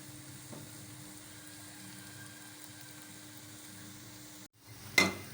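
Potato balls frying in hot oil, a faint steady sizzle with a low hum throughout, a brief drop near the end, then a sharp clatter.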